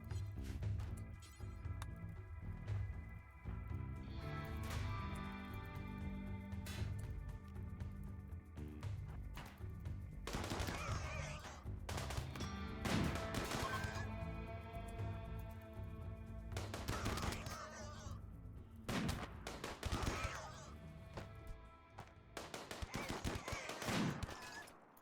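Gunfire in RimWorld as colonists shoot through a door, rapid overlapping bursts and single shots over game music, busy and continuous with intermittent louder volleys.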